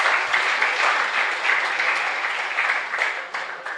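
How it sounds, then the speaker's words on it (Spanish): A church congregation at Mass in the San Roque González chapel applauds steadily, a dense wash of many hands clapping together at close range that thins slightly toward the end. "Un fuerte aplauso para todos."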